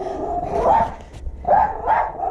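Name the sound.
dog barking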